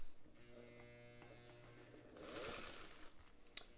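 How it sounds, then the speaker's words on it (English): Vintage Singer straight-stitch-only sewing machine running a long straight stitch, a soft steady mechanical hum with faint rhythmic needle ticking, fairly quiet and close, with no talking. "It's all going to be straight stitch because this is a straight stitch only machine."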